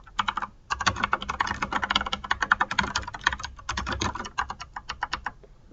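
Close, clattering computer keyboard typing fills in a W4 form, a fast irregular run of keystrokes with a brief pause near the start and a few slower final taps.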